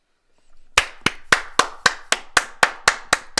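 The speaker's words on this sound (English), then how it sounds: "Everybody, give a round of applause" A small group claps in a steady, evenly spaced rhythm of about ten sharp claps for the doctors at an online webinar, close and fairly loud, with no talk over it.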